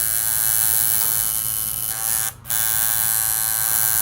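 A tattoo outlining machine runs with a steady electric buzz and faint hum, close by, cutting out for a split second before resuming.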